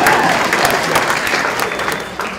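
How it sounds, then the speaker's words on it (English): Steady applause from a crowd at a STEM conference, dense clapping that holds at an even level throughout. "let's clap a little more. A round of applause for that."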